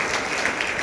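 A school meeting audience applauds, with dense, even clapping that holds steady throughout this short burst.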